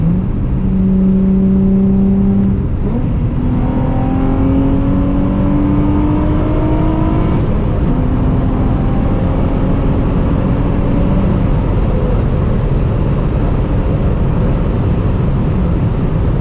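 A Nissan 350Z on an open road, its engine loud and close, climbing through rising revs with a gear change and pulling hard under steady wind and road roar, no talk.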